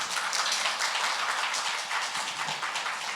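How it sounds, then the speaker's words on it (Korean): An audience at a civil society cooperation results-sharing event gives sustained applause, a dense, even clatter of many hands clapping throughout. "다시 한번 큰 박수 부탁드립니다"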